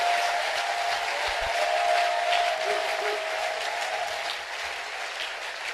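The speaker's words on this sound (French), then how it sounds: "Clap again for the Lord Jesus" A congregation applauding at a prayer vigil, steady sustained clapping from a large crowd, loud and continuous throughout, slowly fading toward the end.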